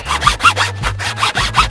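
Two people working a two-handled saw through wood on an island, the blade rasping in steady back-and-forth strokes, about four close, loud pulls in under two seconds.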